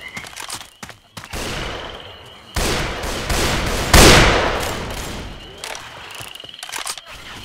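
Gunfire bursts out in Left 4 Dead 2 in the swamp, rapid volleys and single shots that swell loudest in the middle of the stretch, with shouted voices from characters cutting in around them.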